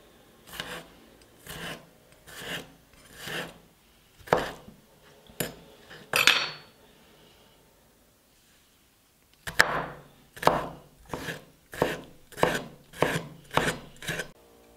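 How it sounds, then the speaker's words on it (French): Knife strokes finely slice a small pickled gherkin on a board, a series of crisp, close taps in steady rhythm that pause briefly midway and then resume faster. "Je vais également tailler un petit cornichon sous vinaigre. Le plus finement possible."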